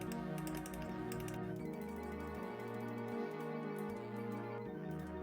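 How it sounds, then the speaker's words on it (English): Computer keyboard or mouse clicks while playing the 1995 DOS adventure game Guilty, light rapid taps over a droning, looping synth game soundtrack. "so I don't know if you can hear me clicking"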